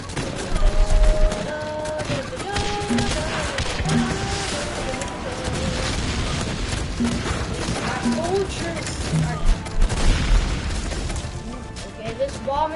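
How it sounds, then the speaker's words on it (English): A bombing run of many small missiles exploding in the game Guns Up, with scattered pops and booms spread across a busy mix of game music and effects, while a voice talks over it. "this bombing run is basically just a bunch of missiles"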